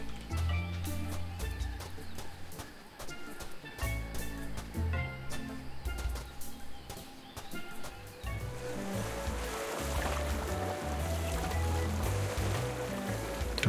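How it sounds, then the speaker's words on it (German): Ocean waves from the Tales of Monkey Island video game, a faint steady wash of surf rolling on continuously with scattered bird calls over it and a swell in the later part. "Ja, es ist der Ozean."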